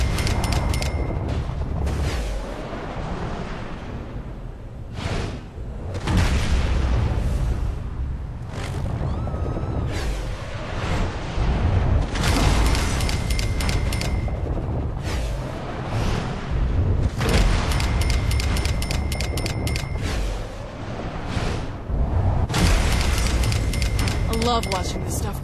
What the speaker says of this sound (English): I love watching this stuff crumble.